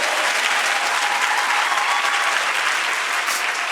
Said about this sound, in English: I think this choir needs another round of applause